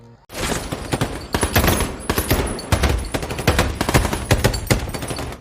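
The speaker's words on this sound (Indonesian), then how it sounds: "Terjadilah baku tembak yang tidak bisa terhindarkan." A heavy exchange of gunfire from the 2014 film American Sniper, with dense bursts of rifle and machine-gun shots cracking loudly one after another.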